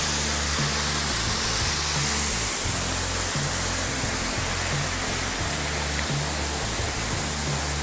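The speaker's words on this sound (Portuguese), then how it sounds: "E a cachoeira!" A waterfall on a forest trail, a steady dense roar of falling water filling the scene, loud and close, with no break.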